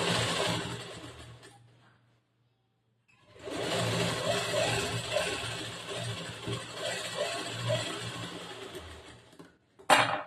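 An electric sewing machine stitches blouse fabric during a back-hook blouse tailoring lesson, running in a steady whir for a couple of seconds, pausing in near silence, then stitching again in a longer, louder burst.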